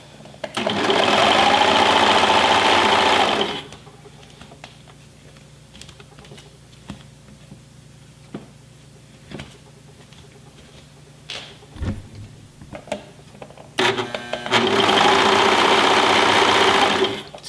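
A Brother 1034D serger stitches a rolled hem in fabric: two loud, fast, buzzing runs of the machine, with quiet clicks and handling sounds between them.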